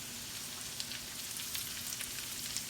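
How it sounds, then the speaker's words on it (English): Onions added to a pan of frying country potatoes give a steady, close crackling sizzle with fine scattered pops, no talking over it. "I'm gonna put my onions in here."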